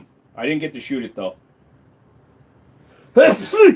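A short burst of talk, a pause, then a sudden loud sneeze-like outburst from a person close by.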